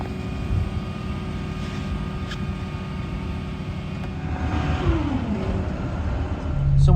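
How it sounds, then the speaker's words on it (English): A tow truck carrying a loaded Ford Focus drives along with a steady engine drone and road rumble. The engine revs up and gets louder toward the end, and no one speaks. "So here's a tow truck, and let's get it back so we can start working on it."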